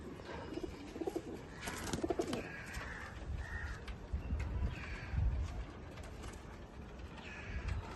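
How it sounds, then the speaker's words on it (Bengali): Soft pigeon coos rise now and then against steady outdoor background noise, fairly close, with no talking. "দেখো ওই যে দারুণ পায়রা বৃষ্টিতে ভিজলো"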